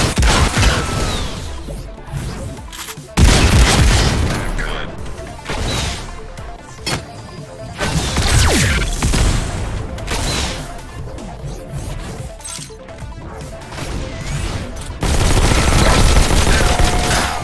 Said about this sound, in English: that elite product is using a rocket launcher